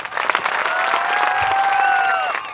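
Audience applause fills a church, a steady wash of many hands clapping at close range, with a few sustained tones and faint voices threaded through it.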